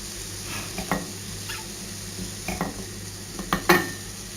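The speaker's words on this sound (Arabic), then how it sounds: "نحركو مزيان هكذا باش الكفته كلها تسحل" A spoon stirs minced kofta meat in a frying pan, giving a soft continuous sizzle broken by several sharp scraping clinks of utensil against the pan, close and moderately quiet.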